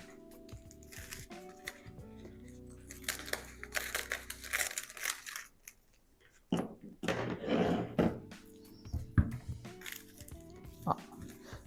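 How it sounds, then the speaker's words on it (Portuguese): Plastic wrap around a bar of handmade soap crinkles and rustles as excess film is trimmed and folded, with soft handling thumps and quiet bursts of crumpling, while a person speaks at times. "E aqui eu vou cortar o excesso do plástico."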